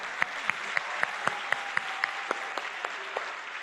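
Rhythmic clapping from an awards show audience at a steady, even beat, with sharp regular claps over a faint background murmur.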